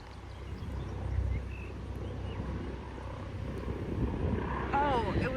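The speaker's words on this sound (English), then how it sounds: "It's a helicopter." A helicopter flies overhead outdoors near a graveyard, a steady low rotor rumble that swells slightly toward the end, with people talking quietly beneath it.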